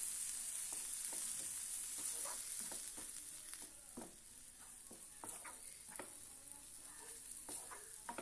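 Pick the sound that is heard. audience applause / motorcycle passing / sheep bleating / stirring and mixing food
stirring and mixing food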